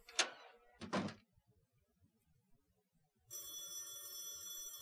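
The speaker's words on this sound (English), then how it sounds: "Phone is ringing." Two sharp thuds, like a door closing, land within the first second, then near silence. A steady electronic telephone ring starts abruptly in a video game and carries on to the end, clear and alone.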